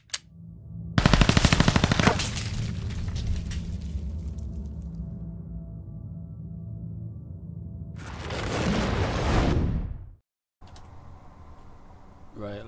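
Ash's Burst Cannon firing in the game Paladins: a rapid, loud burst of cannon shots with booming shrapnel bursts and sustained rumbling, then a second heavy blast, a sudden cut to silence, and a quieter tail.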